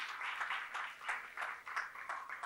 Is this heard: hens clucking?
no